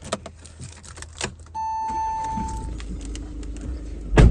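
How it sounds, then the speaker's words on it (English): Audi Q2 1.6 TDI S Line hatchback being started: faint clicks and rustles, then a steady electronic tone and hum as the ignition comes on, the diesel engine cranking and catching near the end. "put the key in the ignition and turn the car on."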